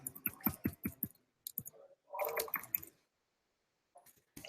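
Keyboard typing during front-end web development work: bursts of quick, close, fairly loud key clicks, clustered near the start and middle, with short pauses between runs and a few isolated taps at the end.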